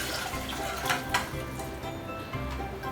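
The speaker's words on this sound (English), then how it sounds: "So we'll combine it with 1 1/2 cups of vegetable stock," Vegetable stock pours into a pot of rice and lentils, a continuous liquid splash and gurgle with a couple of sharper sloshes partway through.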